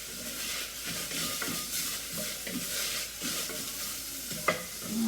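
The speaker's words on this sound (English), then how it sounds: "Now this should start to have like a nutty aroma to it when it's finished sauteing." Brown rice sautés in a pan, a continuous soft sizzle with intermittent stirring scrapes and light clinks of a utensil against the pan, close and fairly quiet, no talking.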